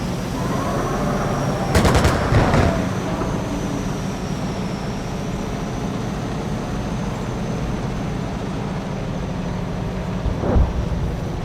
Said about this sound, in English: Artillery is starting to land.